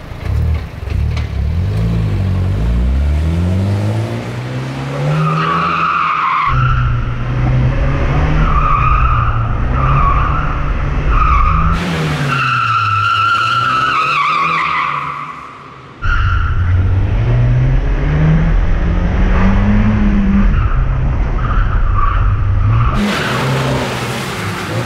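Go-karts roar around the Pole Position Raceway track in Las Vegas, their engines loud and close, rising and falling in pitch as they rev, with long tire squeals and skids through the corners.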